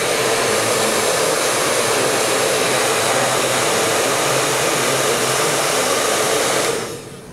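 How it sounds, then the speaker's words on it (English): A hair dryer blows steadily and loudly at close range throughout, used during a model-kit painting and weathering session on an armored fighting vehicle, before cutting off abruptly near the end. "I use the hair dryer all the time."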